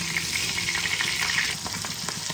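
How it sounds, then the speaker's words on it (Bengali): Pabda fish frying in mustard oil in a kadai gives a steady, close sizzle with dense crackling spatter, easing slightly partway through and continuing without any voices. "একে একে মাছগুলোকে আমি লাল লাল করে ভেজে নিচ্ছি।"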